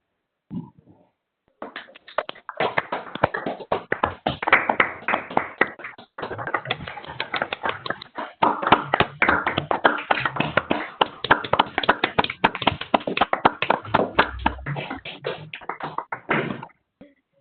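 Several people in an online meeting clap into their microphones after a talk, a dense, uneven patter of hand claps lasting many seconds, close and fairly loud with brief gaps.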